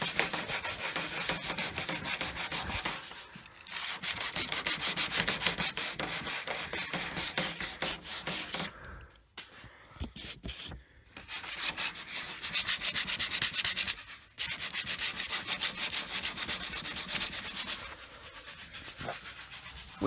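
Sandpaper rubbing a sticker off Miata car paint, close and continuous scratchy strokes with brief pauses, steady back-and-forth rhythm and no talk.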